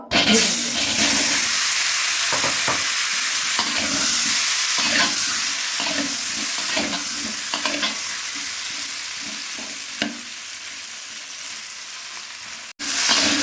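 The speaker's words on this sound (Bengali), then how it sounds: "ভেজে নেব। আলুগুলি নেড়ে দিলাম।" Salted, turmeric-coated potatoes fry in hot mustard oil for a Bengali chicken kosha, a steady close sizzle broken by repeated scraping stirs, with no talk.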